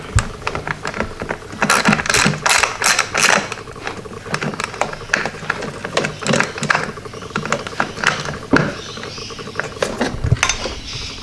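A ratchet wrench works bolts loose on a Hilux Surf under restoration, giving close, loud bursts of rapid clicking with brief pauses in between.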